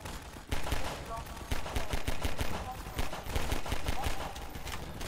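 Rapid bursts of video game gunfire during a friendly-fire moment, sharp repeated shots in uneven volleys over a dense, busy background that keeps going throughout.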